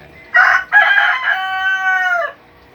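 A single loud, close rooster crow, a broken opening note stretching into a long drawn-out tone that trails off, with no talking.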